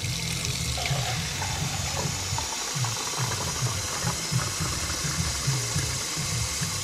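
Running water pours steadily from a tap into a cup, measured out for cooking white rice for fried rice, a constant close rush with a faint rhythmic rattle underneath.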